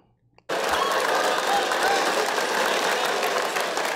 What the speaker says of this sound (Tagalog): Kahit yung crowd, mas buhay na rin.